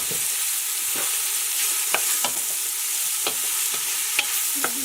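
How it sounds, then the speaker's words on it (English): Mushrooms and garlic sweating gently in a little olive oil, giving a steady soft sizzle throughout with occasional stirring scrapes and light clicks of a utensil in the pan. "We need to lightly cook the mushrooms."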